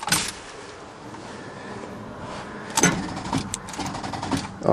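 A 1977 GMC truck with a 400 engine is cranked on a cold start with a weak battery, giving a sluggish starter whir with bursts of mechanical clatter and a couple of louder strained surges, close and alone.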